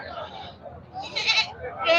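Large castrated goats bleat at a goat market, a few loud nearby bleats rising in the second half amid general market background and some talk.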